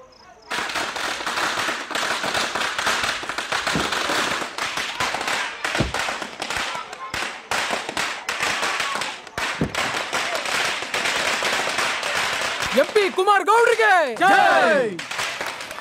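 A string of firecrackers bursts in a rapid, dense crackle through most of the span, loud and continuous with sharp pops, greeting an arriving car at a village political scene; a brief whistling tone rises near the end.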